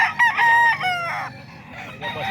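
A full-grown stag gamecock, a spangle, crows and clucks up close, its calls loud and clear with a long drawn crow followed by softer clucking, and no talk over it.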